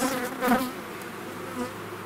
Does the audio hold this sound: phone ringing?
no